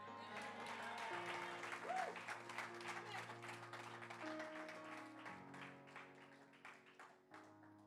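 A church congregation claps through a sermon, broad applause running steadily beneath a sustained musical backing of organ or keyboard chords, with voices mixed in.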